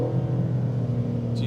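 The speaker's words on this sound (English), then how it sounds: "Now listen to that downshift." A 2024 BMW M4 Competition with an Akrapovic exhaust rumbles through a downshift, a steady deep engine drone with throaty texture, close and loud, ending in a brief higher blip.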